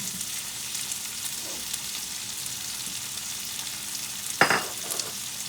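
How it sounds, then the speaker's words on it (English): Onions sautéing in a pan alongside browning pork, a steady low sizzle throughout with a brief louder burst of stirring or scraping near the end. "Just throw them in like that and saute them while the meat's browning"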